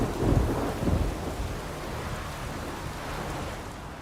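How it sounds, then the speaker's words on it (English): Heavy rain pours down with low rumbling thunder in the open-world fantasy game The Witcher 3: Wild Hunt, a dense steady wash of rainfall that stays loud throughout, a deeper roll of thunder near the start, no voices. "Rains, it pours."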